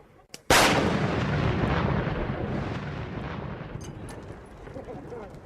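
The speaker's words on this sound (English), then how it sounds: "Be advised, control blast in 1 minute." A controlled explosive blast in Iraq goes off with one sudden, loud boom, followed by a long rolling rumble that slowly fades over several seconds.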